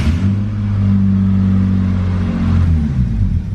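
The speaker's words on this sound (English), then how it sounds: "So let me go ahead and turn the car on, see if it throws that belt off." A high-mileage work truck's engine starts and idles with a deep, steady rumble, revving slightly near the end, close and loud with no talk.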